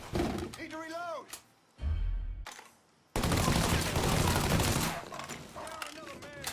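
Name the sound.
gunfire in Mafia 3 video game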